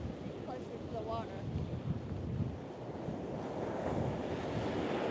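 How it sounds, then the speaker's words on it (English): Strong wind buffets the microphone on a beach, with waves surging and breaking over a constant roar. Sand is blowing, and a faint voice briefly rises early on. "The wind is so strong that the sand is sandblasted my ankle."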